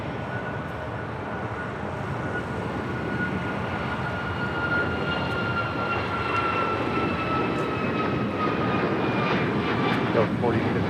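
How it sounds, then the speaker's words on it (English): A United Airlines Boeing 737 MAX 9 bound for Houston takes off at LAX, a sustained jet engine roar building slightly in loudness with rising whining tones, while radio chatter and voices talk over it. "Next takeoff, United Airlines flight 1416, heading to Houston, Texas, a 737 MAX 9."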